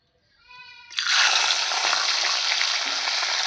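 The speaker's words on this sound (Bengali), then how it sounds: "তেল কিন্তু আমার গরম হয়ে গেছে প্রথমে আমি মাছের মাথাটা ভেজে নেব" A hilsa fish head hits hot oil and sets off a loud, steady sizzle that stays strong and close, after a brief ringing tone at the start.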